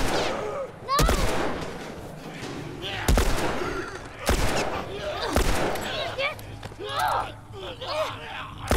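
Heavy gunfire in The Last of Us Remastered: loud, booming shots spaced a second or two apart, each with a long decaying tail, mixed with a player talking and panting.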